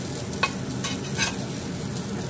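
Beijing meat pies pan-frying give a steady, close sizzle with a few faint scraping clicks from the pan, and no voices.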